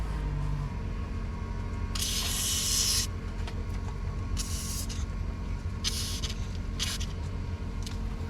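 Several short, sharp hissing bursts of Deep Creep penetrating oil sprayed onto the control arm bolts of a 3rd-generation Dodge Ram 3500, the first longest, over a steady low background rumble.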